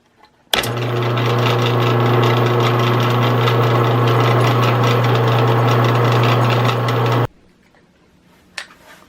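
A power drill bores oil ring drain holes into a piston from a Devair 447 engine rebuild, giving one loud, steady whirring run of about six and a half seconds that starts abruptly and cuts off, followed by quiet.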